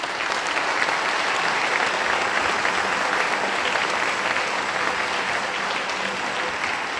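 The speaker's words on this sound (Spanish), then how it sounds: "Vamos a darle un aplauso a todos ellos" Congregation applauding inside a church during a Spanish-language Mass, a dense steady wash of clapping that holds at full strength for the whole stretch, loud and close, with no voices rising above it.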